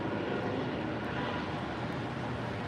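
A helicopter passes overhead as a faint, steady engine drone with a low rumble, continuous throughout and with no voices.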